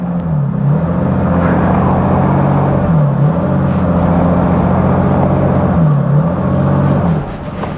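Toyota Sequoia TRD Pro tires spinning through slush on a hill, a loud, steady engine drone with repeated rising revs as the wheels churn, close and continuous for about seven seconds.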